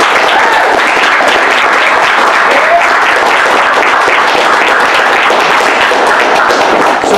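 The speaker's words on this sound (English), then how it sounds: "Let's have a big round of applause for Mr." Big round of applause from a convention audience at the Valiant Summit 2017 comics panel, loud, dense clapping sustained evenly throughout, with occasional thumps.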